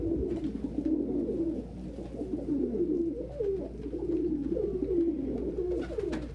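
Pigeons coo continuously in a loft, overlapping low rolling calls from several birds close by, with occasional soft rustles and clicks beneath.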